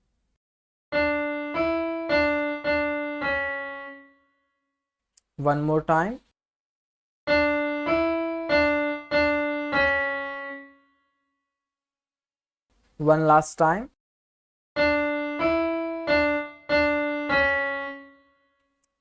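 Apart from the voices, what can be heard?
keyboard playing Ganesh Aarti melody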